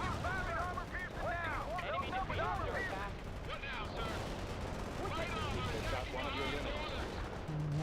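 Battle sounds from the real-time strategy game World in Conflict: steady gunfire and explosive bursts in dense combat, with radio voices and orders spoken over the din throughout.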